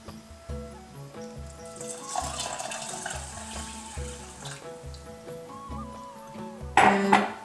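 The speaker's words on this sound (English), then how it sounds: "Now add the water." Water poured into a cooking pot of khichdi with salt and turmeric, a soft wash of pouring under steady background music, with a brighter splashing burst near the end.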